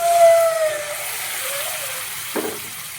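Boiled water poured into a hot pan of fried egg curry masala, giving a steady hiss and steamy sizzle that fades, with a brief clatter near the end.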